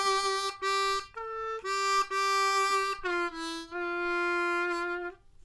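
Solo harmonica plays the next phrase of a theme, a slow sequence of sustained, reedy single notes with brief breaks between them, clear and close, with no talking.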